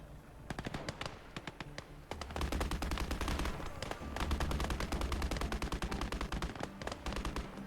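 War video game gunfire aimed at a house: rapid automatic bursts of close, sharp shots, sparse at first, then a continuous heavy rattle of machine-gun fire with no talking.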